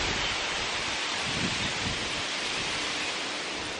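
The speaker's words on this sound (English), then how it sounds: "It's very windy today." Strong wind blows outdoors and buffets the microphone, producing a steady, loud broadband rush with low gusting thumps and no voices heard.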